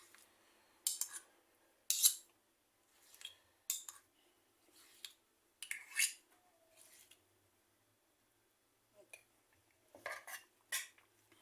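Two metal spoons shape cocoa and date energy balls, giving sharp, intermittent clinks and scrapes of metal against metal and a plate, close and quiet, in irregular bursts with pauses between.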